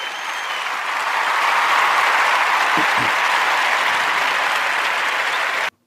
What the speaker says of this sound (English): we want to give my guests a special round of applause